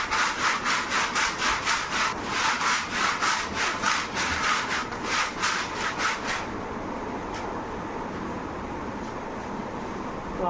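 Pineapple and mogra incense powders are mixed together by hand, giving a close, steady run of rhythmic rubbing strokes for about six seconds before the motion stops and only faint room noise remains.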